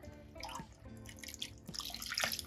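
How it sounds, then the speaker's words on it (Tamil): Water is poured from a small tumbler into a thick curd and spice mixture for buttermilk curry, giving faint, close trickling and dripping splashes in a quiet kitchen. "தண்ணி விட்டுட்டு"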